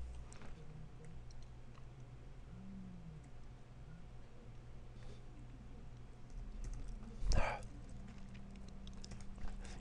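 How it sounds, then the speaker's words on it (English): Computer keyboard typing while writing Scala code: a soft, steady patter of keystrokes runs under a low room hum, with one louder clack near the end. "Got ahead of myself with the typing."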